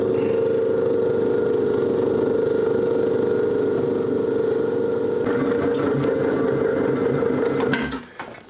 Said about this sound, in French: il n'y a plus qu'à mettre tout ça dans le batteur